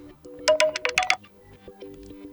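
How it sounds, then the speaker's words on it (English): An HTC Desire 20+ phone plays its ringtone as a short, loud, bright melodic burst of tonal notes, which fades into softer tones and taps. "Here we got also the phone ringtone"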